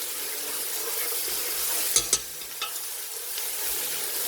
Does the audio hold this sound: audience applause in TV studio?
no